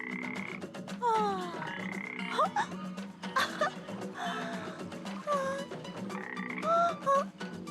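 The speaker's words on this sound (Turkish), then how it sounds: "Bu bir kurbağanın sesi." Several frogs croak in a dense, overlapping chorus, with rising chirpy calls layered over a steady low drone, fairly close and continuous.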